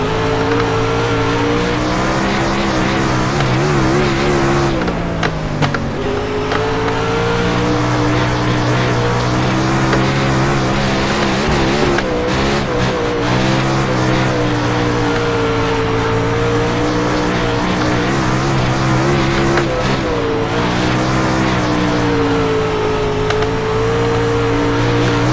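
Engines of World of Outlaws sprint cars racing on the Charlotte dirt track in the iRacing video game: loud, continuous high-pitched roar that rises and falls as the throttle changes, with several sharp dips into shifts or lifts.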